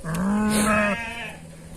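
A sheep on a sheep and goat farm lets out one long, loud bleat close by, a steady wavering cry lasting about a second before fading into quieter farm ambience.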